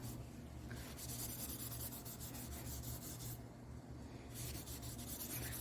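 A cloth rubs over pencil shading on paper, blending graphite on an op-art drawing. A soft, steady, faint scratchy rasp continues throughout with no talk.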